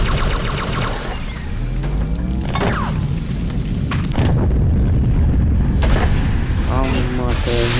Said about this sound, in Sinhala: මේ මේකේ බෝම්බ තියෙන්නේ මාරුව.